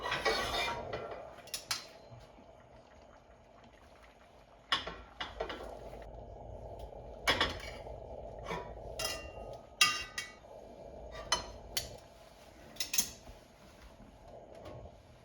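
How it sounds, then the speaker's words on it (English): Cooked artichokes being lifted into a small casserole dish, sparse clinks and clatters of utensils against cookware with quiet pauses between, no talking. "We're just gonna pull them out and put them in our little casserole dish."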